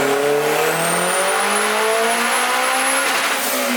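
Turbocharged K24 engine in a car revving hard during a dyno pull, one loud continuous rising tone that climbs steadily in pitch for several seconds, then lets off near the end.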